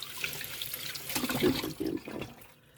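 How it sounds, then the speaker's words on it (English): Hands are washed under a running kitchen tap while ribs are prepared, with steady splashing water and louder splatter as the hands move through the stream. "Just gonna excuse my arm while I wash my hands."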